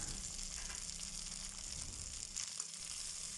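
Crushed green turkey berries and small shallots fry in a pan, giving a faint, steady sizzle that runs evenly throughout without speech.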